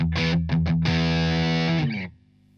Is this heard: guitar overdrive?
yes